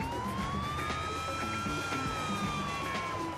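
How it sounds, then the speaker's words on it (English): Police car siren in the video game GTA 4, a steady wailing tone rising and falling slowly, loud and continuous throughout with engine rumble underneath. "That was a police car."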